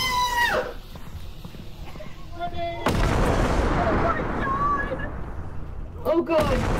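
Bomb monster exploding in the game Content Warning, a sudden loud blast that turns into a sustained rumbling roar, with excited voices shouting before and after.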